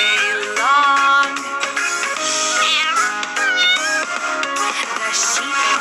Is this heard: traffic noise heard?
no